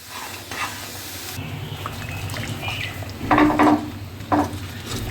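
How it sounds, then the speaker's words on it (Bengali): Jaggery melts in boiling water in a pot while a spoon stirs it, giving a soft bubbling hiss under scattered scraping and clinking strokes against the pot, close and moderately loud with no talk. "আমি নাড়াচাড়া করতে করতে আমি গুড়ের পাটালিটা একদম গলিয়ে গুঁড়ো পরিণত করে নেব"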